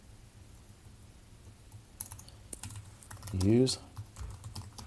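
Typing on a computer keyboard, a few quiet key clicks scattered over several seconds, with a brief spoken word in the middle.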